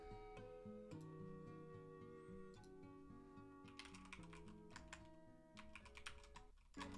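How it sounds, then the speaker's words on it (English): Keys tapped on a computer keyboard in quick, uneven bursts of clicks, fairly close, over soft music playing steadily in the background. "Why am I typing Pinterest into the search bar?"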